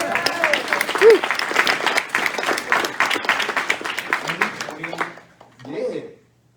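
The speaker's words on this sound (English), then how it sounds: "give them a round of applause" Audience applause breaks out at a live evening rap, hip-hop and poetry event, a dense burst of clapping and cheering lasting about five seconds, then fading as a voice speaks briefly near the end.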